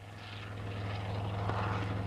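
Aircraft engine drone, likely a helicopter in flight, holding steady and fairly close with a low continuous hum and whirring rotor texture throughout, without talk.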